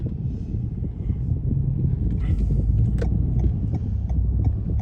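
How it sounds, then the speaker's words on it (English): A Chevrolet Silverado SS pickup truck passes on a city street in Tallahassee, Florida, heard from inside a moving car as a steady low engine and road rumble that swells slightly as it goes by. "Let this guy pass you, y'all can see his truck."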